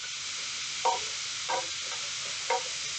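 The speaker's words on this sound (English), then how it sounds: "it doesn't take ground beef very long to cook. So you want to constantly mix it up." Ground beef sizzles steadily in a hot pan, with three distinct scraping stirs of a utensil standing out over the constant frying hiss.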